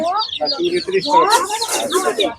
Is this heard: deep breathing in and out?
no